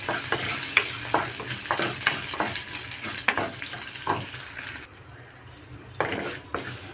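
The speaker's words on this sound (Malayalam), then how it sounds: "ഒന്ന് വഴറ്റിയെടുക്കണം." Eggplant being sautéed in a pan, stirred in uneven scraping strokes over a steady sizzle, with a brief quieter pause before the stirring resumes.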